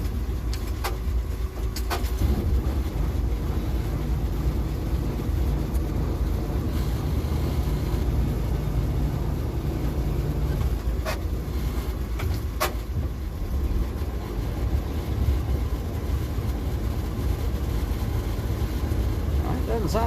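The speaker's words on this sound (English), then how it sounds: "third gear is the one that makes most of the whine." Old fire truck driving in third gear, its worn transmission giving a steady whine over continuous engine and road rumble, with someone talking throughout.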